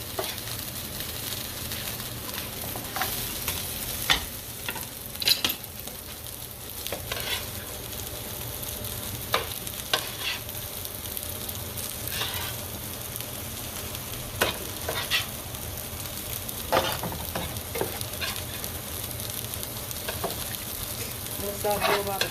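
Potatoes fry in a pan with a steady, moderate sizzle, joined now and then by the clatter and scrape of a utensil stirring them.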